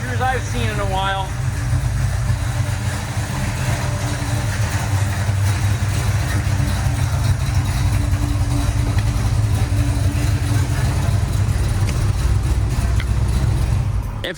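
Deep, even idle of a 1973 Dodge Charger SE 440 V8, a continuous low burble held close and loud throughout, with a voice briefly talking over it at the start.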